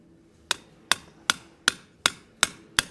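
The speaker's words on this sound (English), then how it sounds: "we're going to drift these open a little bit. And we're going to do this by simply going over the Pritchell hole of our anvil" Seven sharp, evenly spaced hammer blows ring out on steel as a drift is driven to open holes over an anvil's pritchel hole near its edge, each strike bright and close with a short metallic decay.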